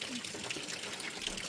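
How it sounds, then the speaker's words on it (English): Heavy rain pours down outside a motorhome with an overhang, making a steady, faint broadband hiss of falling water that runs the whole time. "even though it's pouring rain like crazy"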